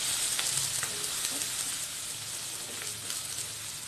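Onion, garlic-ginger paste and turmeric fry in a pan for a kadhi, giving a steady, soft, close sizzle that crackles continuously with no one talking.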